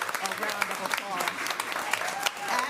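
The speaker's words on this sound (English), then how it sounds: "If we can give her a round of applause." Applause at a county board of commissioners meeting honoring a long-serving employee, a room of people clapping steadily with scattered sharper claps, while voices murmur and call out over it.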